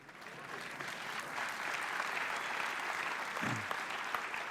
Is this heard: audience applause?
yes